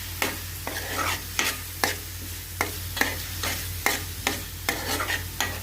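A spoon stirs tomato-coriander paste frying in a pan, with regular scraping strokes roughly every second over a steady close sizzle.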